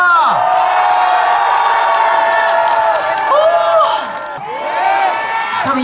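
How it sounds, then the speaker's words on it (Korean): A festival crowd at a strawberry festival in Samnangjin, Miryang, cheers and shouts loudly under music, with sustained whoops and a swell that dips and rises again. "양손 높이 들고 3초간 함성 발사!"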